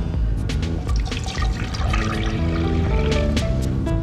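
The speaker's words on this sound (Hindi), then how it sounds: "और अब हम इसमें पानी डालेंगे।" Water pours into a pan containing tamarind paste, giving a steady, close, fairly loud splashing rush with bubbly gurgles that runs throughout, with no voices.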